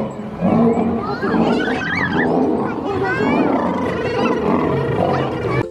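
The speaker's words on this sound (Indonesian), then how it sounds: "yang ini namanya singa loh teman-teman" A lion roars inside the video game Jurassic World Evolution 2, steady and loud through the whole stretch, with game ambience and other animal calls layered around it.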